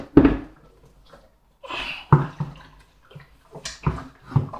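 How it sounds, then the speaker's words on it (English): Water rushes and gurgles down inside a Pinter 2 keg being turned over during sanitising, in a few loud close splashing bursts with quiet gaps between them and no talking. "you'll hear the water rush to the bottom"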